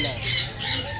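A lory parrot from a DNA-sexed breeder pair at a Karachi exotic bird market gives two harsh, loud squawks in quick succession, close by.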